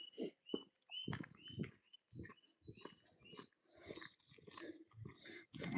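Birds sing and chirp around a loch at sunrise, a run of varied close calls and whistles in bursts with short gaps between phrases.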